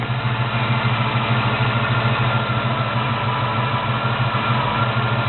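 A small-block Chevy 350 V8 fitted with FiTech Go EFI idles steadily while warming up, a loud, continuous low rumble with an even pulse throughout and no talking.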